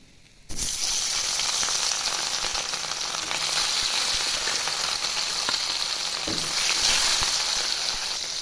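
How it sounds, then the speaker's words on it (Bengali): Salted, turmeric-coated snakehead fish drops into hot oil in a kadai for a fish curry with yam, bursting into a loud, steady sizzle that continues unbroken, with a brief spatter of stirring partway through. "এবার মাছগুলো ভেজে নেব।"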